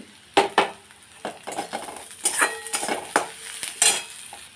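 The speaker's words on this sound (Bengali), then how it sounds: "আর এই যে পেঁয়াজ কিছু দিয়ে দিলাম ভেজে নেব এখানে তেলটা আমি কম দিয়েছি" Onions and water spinach frying in a small amount of oil in a pan, with sharp metal spatula scrapes and clinks over a soft sizzle, close and irregular.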